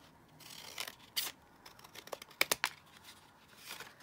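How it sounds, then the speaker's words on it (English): Scissors cutting paper for a junk journal, a few quiet, close snips and crisp paper rustles clustered in short bursts with pauses between. "And then I'm just going to cut it down here."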